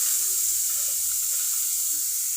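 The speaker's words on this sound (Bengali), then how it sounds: "মাছটা কড়া ভাজি করবো না, হালকা ভাজবো।" Fish pieces lightly frying in a pan with cumin, a soft, steady sizzle close by, fairly quiet and unbroken, with no talking.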